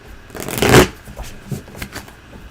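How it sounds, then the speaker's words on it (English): Tarot cards are shuffled in a quick riffle that peaks early, followed by softer shuffling and light handling noises, close by. "I am focusing, so I know I am shuffling first."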